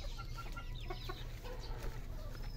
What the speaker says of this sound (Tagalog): Ito yung mga alagang manok.